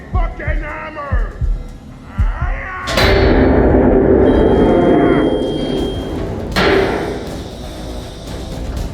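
Heavy hammer blows in the video game Man of Medan: a few dull thuds, then a loud crashing impact and a second big smash, with a voice talking over them.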